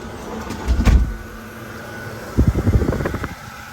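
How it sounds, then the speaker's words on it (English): A 400-watt portable camping air conditioner runs with a steady low hum, broken twice by louder rumbling, rattling bursts of handling noise nearby. "Now I've got the aircon."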